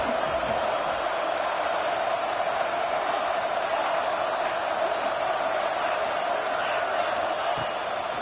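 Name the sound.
Texas Tech Red Raider stadium crowd cheering on third down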